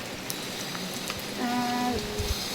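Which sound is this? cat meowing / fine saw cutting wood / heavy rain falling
heavy rain falling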